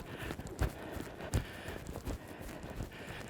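A horse trots during a riding training session. Faint, distant hoofbeats fall in an even rhythm, with a few heavier thuds.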